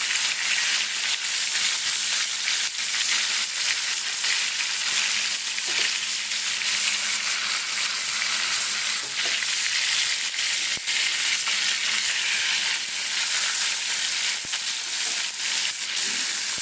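Rohu fish fries in hot oil in a small wok, producing a steady, close sizzle and crackle that runs on without a break, with faint stirring noises mixed in.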